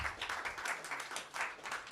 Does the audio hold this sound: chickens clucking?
no